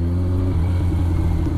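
An inline-four superbike engine revs loudly and close, a dense steady mechanical drone with a slight shift in pitch partway through and no talking.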